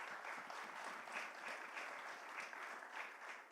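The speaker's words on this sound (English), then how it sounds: "please join me in giving a round of applause to our very eminent panel members" An audience at an energy investment summit applauds its panel, a soft, fairly distant wash of continuous clapping that holds steady for the whole stretch, with no talking over it.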